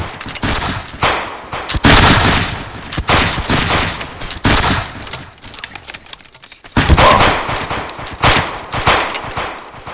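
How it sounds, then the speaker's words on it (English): Musket gunfire in the video game Battlegrounds 2, a loud, dense run of volleys and scattered shots cracking almost without pause, with one brief lull before the firing surges again. "Just keep firing, just keep firing."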